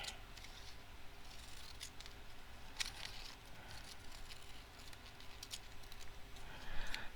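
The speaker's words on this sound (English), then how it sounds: "I'll cut some from this side too" Scissors cut paper for a gluebook spread, giving a close, steady run of soft snipping and rustling crunches at fairly low volume, with no voices.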